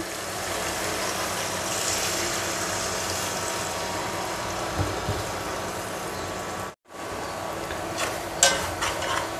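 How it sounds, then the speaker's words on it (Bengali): Spice paste of chilli powder and salt with a little water fries for a Shillong fish and green mango curry with a steady sizzle while a spoon stirs and scrapes now and then, continuous and fairly loud, with a brief dropout partway. "মশলাটা অলমোস্ট কষানো হয়ে গিয়েছে"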